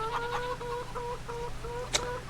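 A flock of about 490 chickens clucks steadily in a rhythmic chorus, one sharp squawk standing out near the end, with no talking.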